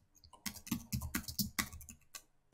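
A folder name typed on a computer keyboard, a close burst of crisp key clicks in quick irregular rhythm with brief pauses between strokes, alone without talk.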